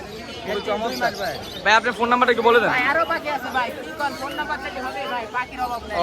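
Caged birds including cockatiels, lovebirds and mynas chirp, whistle and coo at a busy bird market in Mirpur, close and lively, mixed with the babble of people talking.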